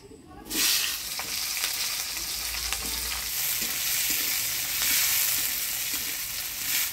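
Chopped onion dropped into hot oil with whole garam masala, cinnamon, cardamom, cloves, dry red chilli and bay leaf, bursting into a loud steady sizzle that holds with faint stirring clicks, for village-style goat-fat ghugni.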